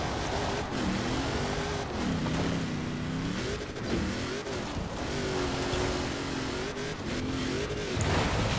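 A Hoonigan car driven in the video game Forza Horizon 4 revs steadily, its engine note rising and falling through repeated gear changes and throttle lifts, loud and continuous with no one talking.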